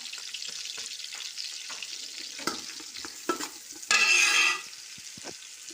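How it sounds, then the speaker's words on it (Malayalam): Curry leaves and masala hit hot oil in a pan with steady sizzling and stirring, a spatula scraping now and then and one loud burst of spitting as ingredients go in, heard close and alone. "നമുക്കിതിലേക്ക് കറിവേപ്പിലയും ഈ മസാലയും ചേർക്കാം"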